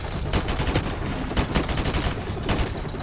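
Rapid bursts of AK rifle gunfire in Modern Warfare Remastered, loud dense automatic shots in several quick volleys over about three seconds, with no talk.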